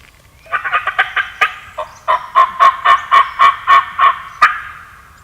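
A wild turkey gobbles in one long throaty burst that stutters briefly and then carries on as a steady run of about a dozen loud pulses, with no voices.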